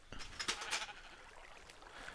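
Sheep in Minecraft give several short, bright bleats in quick succession, close and fairly clear, then a lone fainter bleat follows after a pause over quiet game ambience.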